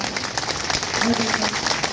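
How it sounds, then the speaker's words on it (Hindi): Applause from a crowd at a rally for memorial workers' demands, a dense, steady clapping patter mixed with murmuring voices and some talk. "जोरदार ताली बजाइए"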